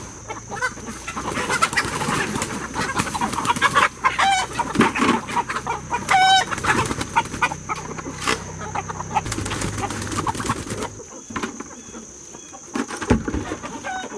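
Chickens cluck and chatter nearby in a coop amid outdoor noise, with a few brief higher calls rising above the steady background.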